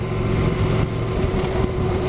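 A lawn mower engine drones steadily near the road, a loud continuous buzzing hum with a few small dips, heard alone with no talk.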